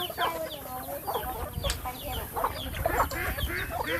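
Village chickens clucking close by at a rural Thai family home, several birds calling in overlapping bursts with a low murmur beneath.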